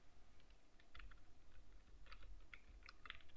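Soft, rapid tapping on a computer keyboard during software use, faint and close, with irregular clusters of keystrokes over a low steady background hum.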